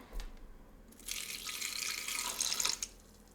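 About 40 g of water pours into a container for a carrot recipe, a brief close splashing trickle of under two seconds after a few small knocks, with no talking.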